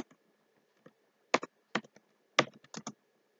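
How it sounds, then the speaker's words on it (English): Keys clack on a computer keyboard as a command is typed, a few sharp isolated taps followed by quick clustered keystrokes, close and clear against a quiet background. "open the command line and then type this command"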